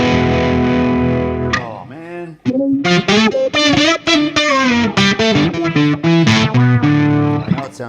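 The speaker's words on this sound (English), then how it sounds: "That's the guitar and synthesizer." Guitar and synthesizer run through an effects unit with heavy distortion and some chorus, playing a loud, dense stream of processed notes with sliding pitch bends; a man briefly exclaims partway through.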